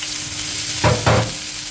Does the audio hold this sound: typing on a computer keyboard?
no